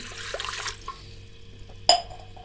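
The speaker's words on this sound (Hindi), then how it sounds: "अब इसमें हम 1 गिलास पानी शामिल कर देंगे।" A glass of water pours briefly into a metal pressure cooker with a gushing splash, followed after a pause by a sharp metallic clank.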